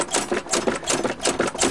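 A 1975 Chrysler New Yorker engine cranking over on the starter without catching, a steady rapid rhythmic churning, close and fairly loud, with no talk.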